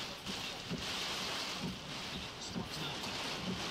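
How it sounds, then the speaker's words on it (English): Heavy rain and hail pound down during a severe Texas thunderstorm, a dense and steady hissing roar that never lets up, with faint low rumbles underneath. "Back over to Jason, you can see he's just getting clobbered by hail and rain right now."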